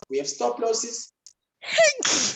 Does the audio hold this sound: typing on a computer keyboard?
no